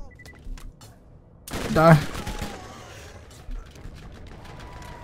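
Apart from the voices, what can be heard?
explosions and gunfire in Borderlands video game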